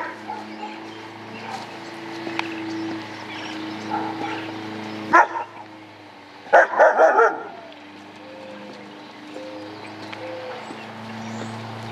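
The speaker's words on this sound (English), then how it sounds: "Well, now you know what her bark sounds like." A young dog at 31 weeks old gives a few loud barks indoors, one sharp bark followed moments later by a quick cluster of yips, against a quiet room hum with soft background talk.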